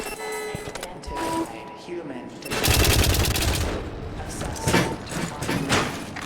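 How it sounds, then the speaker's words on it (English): Turret gunfire rattles in rapid automatic bursts in the White Knuckle video game, loud and close, with a quieter mechanical clatter at first and then dense sustained firing. A person talks over parts of it. "Oh no, it's a turret death room."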